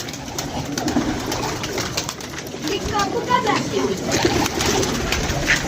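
Pigeons cooing softly in a group, low murmuring calls repeating over a steady rustling background with some wing flutters.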